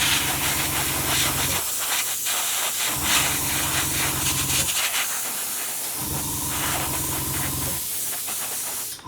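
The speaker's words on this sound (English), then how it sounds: "sort of delivering hot air to a miniature to actually sort of dry the paint. With an airbrush, free air." An airbrush blows a steady stream of air to dry paint on a miniature, a loud, close hiss that runs throughout, punctuated by a low pulsing hum that cuts in and out in several bursts.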